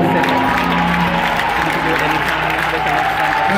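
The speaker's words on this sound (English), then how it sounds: "clap your hands for Clap" A church congregation claps hands in a thick, continuous wash of applause. It stays loud and steady throughout, with sustained music tones and a voice carrying underneath.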